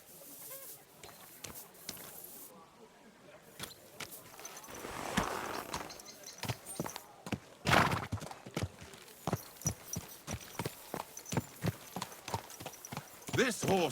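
Horse hooves clip-clop steadily in the Kingdom Come Deliverance 2 video game, close and fairly loud, with a quickening rhythm of sharp strikes and a voice talking over part of it.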